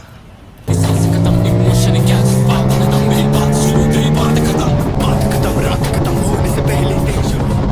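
An Aprilia RS 457 motorcycle fitted with a modified exhaust bursts into a loud, close, droning rev that stays strong and even for several seconds, its pitch shifting slightly partway through.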